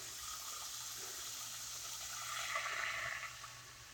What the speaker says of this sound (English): So see, putting the water in the pan.